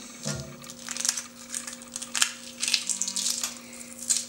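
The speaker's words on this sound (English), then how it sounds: "So as you can see, the shell is coming right off" A cooled hard-boiled egg, cooked in an Instant Pot, is peeled by hand: small crackling and crinkling bursts of shell breaking away, close and fairly quiet, repeating irregularly with no talk.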